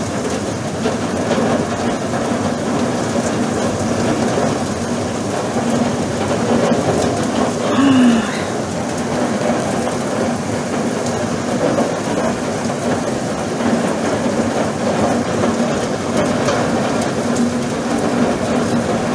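Heavy rain drums steadily on a surface throughout, with a low thunder rumble rolling in around the middle; the downpour stays loud and continuous with no speech.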